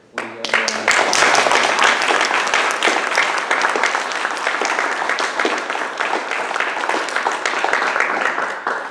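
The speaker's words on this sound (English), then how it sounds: "I guess we could applaud Dick." Sustained, dense applause from an audience at a memorial tribute gala for a club member, steady and loud throughout with a few voices mixed in.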